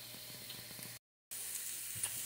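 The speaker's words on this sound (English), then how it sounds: "Probably should have put some butter in the pan." Lean elk burger patties frying in a pan without butter, a faint steady sizzle with soft crackles that briefly drops out and then resumes.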